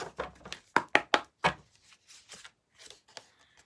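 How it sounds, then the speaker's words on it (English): Oracle cards being shuffled by hand: soft, irregular flicks and taps of card stock, a few sharper snaps early on, then lighter scattered clicks, close and quiet, with no talking. "I'm going to do one more shuffle"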